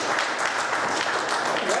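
A comedy club crowd applauding, a dense, even wash of clapping from many hands that holds steady throughout.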